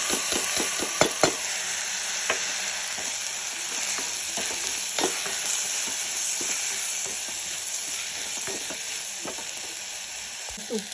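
Washed rice frying with ginger in a pan for pudina ghee rice, a steady sizzle running throughout with repeated scraping stirs and spoon taps, close and fairly loud.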